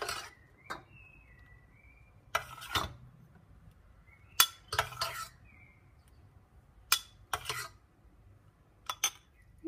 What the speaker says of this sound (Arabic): كنقسم دابا هاد الخليط على هاد خمسة ديال الجبيبينيات على النكهات اللي عندي.